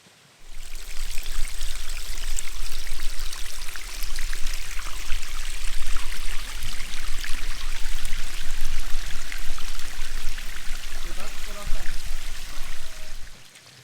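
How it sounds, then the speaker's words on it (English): Small trickle of water at Ironstone Gully Falls, a steady close splashing and running-water wash that holds evenly throughout. "it's just a trickle at the moment at Ironstone Gully Falls"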